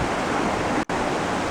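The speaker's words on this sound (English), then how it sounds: "Tuolumne River still got a lot of water flowing in it" The Tuolumne River, fed by glacier melt, rushes in a continuous broadband wash of flowing water, broken by one very brief dropout.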